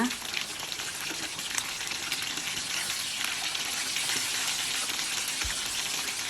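Pork belly deep frying in oil over low to medium heat, a steady dense sizzle and crackle running throughout with no talk over it.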